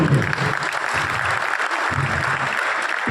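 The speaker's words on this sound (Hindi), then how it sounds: "ताली बजा दीजिए" Seminar audience clapping at a business-building event, sustained loud applause from a room of people, with someone speaking over it in places.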